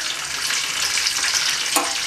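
Bay leaves, a cardamom pod and cinnamon sticks frying in oil, a steady close hissing sizzle with a brief clink or stir near the end, no one speaking.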